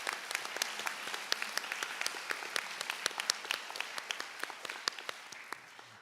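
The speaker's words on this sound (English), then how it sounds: "So if we could get a huge round of applause for everything they've done this year." Audience applause at a school last-day awards assembly: many sharp individual claps over a steady patter, starting strong and slowly thinning out over several seconds.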